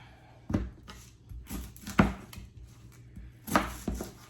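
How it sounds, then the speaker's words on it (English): A knife chops red onion roughly on a cutting board, with a few distinct, close thuds spaced irregularly over a few seconds. "Just a rough chop on the onion."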